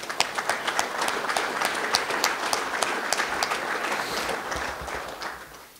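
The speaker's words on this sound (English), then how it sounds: "If we could just give them a big round of applause." A breakfast audience at a mining-industry gathering gives a round of applause, with many hands clapping steadily and individual claps standing out, holding strong before tapering off at the end.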